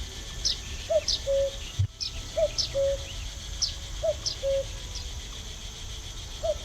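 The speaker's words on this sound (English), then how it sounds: "Where's the cuckoo bird?" A cuckoo calls repeatedly in the game The Night of the Rabbit, its two-note coo recurring at a steady rhythm over a soft insect-like chirping bed, clear and moderately near with no talk.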